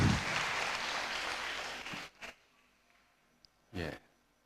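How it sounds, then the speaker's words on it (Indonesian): Audience applause at a gathering with Indonesia's religious affairs minister, a crowd clapping for about two seconds that stops abruptly, then quiet with a few brief sounds. "Kita tepuk tangan dulu untuk memberikan support."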